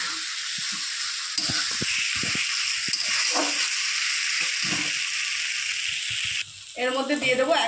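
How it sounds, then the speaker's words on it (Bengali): Spices with turmeric fry in a pan with a steady close sizzle and occasional stirring clatters, ending in a louder bubbling burst. "সমস্ত মশলাগুলো ভালো করে আমি কষিয়ে নেব।"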